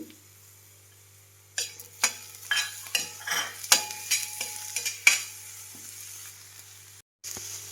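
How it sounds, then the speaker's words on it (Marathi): Green chilies and garlic hitting a hot pan in a village kitchen, a quiet sizzle broken by a run of scraping stirs and spoon clinks against the pan, then a low steady fry. "ही हिरवी मिरची आणि लसूण आहे आता ही टाकून घेते भाजीसाठी"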